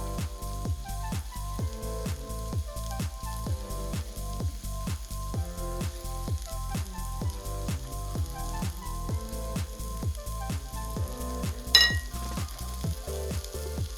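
Chicken pieces with garlic sizzle steadily in a pan for a creamy chicken dish, with a rhythmic crackle of frying and stirring and a brief sharper hiss near the end; no one speaks.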